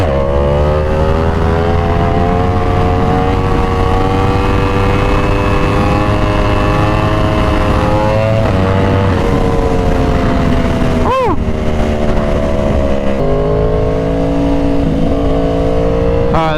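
A Yamaha R1 sport bike engine drones loud and close with a rich, steady tone that rises and falls through several revs. A sharp blip comes near the middle, and the bike is heard alone.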